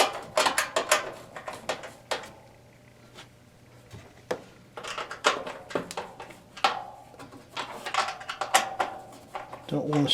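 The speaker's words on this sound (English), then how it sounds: "I'm just over here tightening this lower right hand screw on the burner assembly" A screw being snugged on the burner assembly of a 2011 Bradford White 40-gallon gas water heater, with scattered close metallic clicks, scrapes and taps in irregular bursts.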